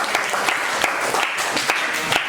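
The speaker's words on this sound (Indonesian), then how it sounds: "kali tepuk tangan untuk kita semuanya" Applause in a classroom, a dense burst of many hands clapping together, close and loud, lasting a couple of seconds.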